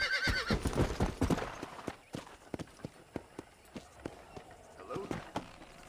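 A horse in the Red Dead Redemption video game whinnies loudly at the start, then hooves clip-clop in an even walking rhythm, with people talking over the game audio.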